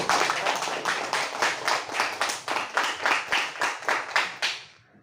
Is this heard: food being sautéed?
no